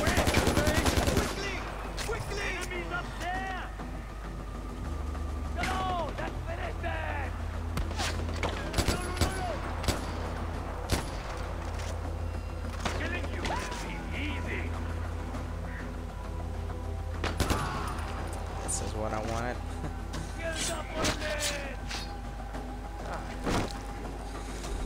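Bursts of video game gunfire from Far Cry 4, loud and frequent, with sharp shots scattered across the clip over steady background game noise, with brief voices.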